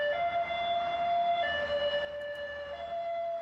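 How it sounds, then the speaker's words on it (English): An ambulance siren wails with steady, high sustained tones that shift pitch partway through, loud and continuous with no voices. "Sounds like an ambulance."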